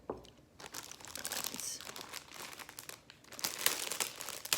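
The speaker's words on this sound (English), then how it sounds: "Sorry for the people that don't like crinkling." Plastic packaging crinkling and crunching up close, a busy irregular run of rustles and crackles of varying loudness with no speech over it.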